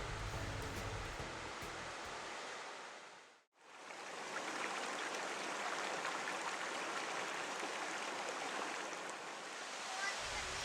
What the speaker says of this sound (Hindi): ये आप देख रहे हैं जोगनी वाटरफॉल, जिसका पानी 150 फीट की ऊंचाई से नीचे गिरता हुआ मिल जाता है उसी ब्यास की नदी में